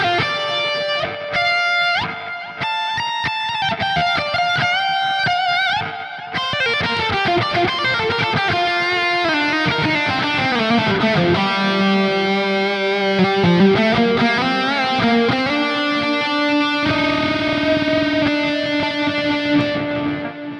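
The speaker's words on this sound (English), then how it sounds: "So this is what it sounds like with the Telecaster." Telecaster electric guitar playing a lead line through the Neural DSP Archetype Gojira amp simulator with delay and reverb, giving sustained, distorted melodic notes with trailing repeats, loud and continuous for about twenty seconds with no voices.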